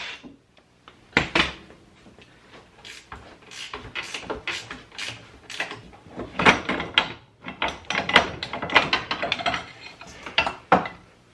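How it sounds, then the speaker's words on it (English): Wrench and metal clanks as 14mm bolts come out and the rear swing arm is pulled off a Suzuki King Quad 300 ATV: irregular sharp knocks, rattles and scrapes, close and fairly loud, with no talking. "So we'll take those out, and then your swing arm will come off."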